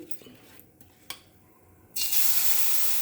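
Dosa batter poured onto an oiled pan (mookudu-style dosa) sets off a sudden loud, steady hiss of sizzling that starts partway in and continues without a break, following a few faint clinks.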